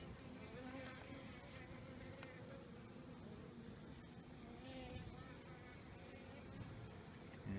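Honeybees hum steadily inside an open hive frame holding pollen and brood cells, where a worker bee is emerging. The dense buzzing stays low and continuous throughout at close range, with no talk over it.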